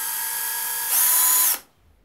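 Parkside 12V cordless drill/driver running alone and close: a steady high motor whine that speeds up and gets louder partway through, then spins down and stops.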